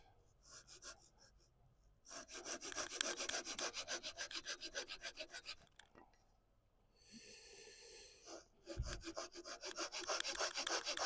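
A spinning wood piece on a lathe being cut with a tool to form a bevel, giving rhythmic rasping scrapes in bursts with a short pause between passes, close and fairly quiet.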